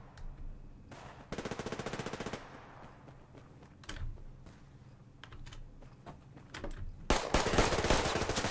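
Pistol gunfire in the shooter game Survarium: a rapid run of sharp shots, then scattered single cracks, and a final loud burst, all mixed with clicky keyboard-like tapping and no speech.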